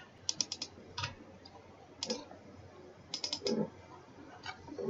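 Fingers type on a computer keyboard while entering data into an Excel spreadsheet, producing quiet, close key clicks in short bursts separated by brief pauses.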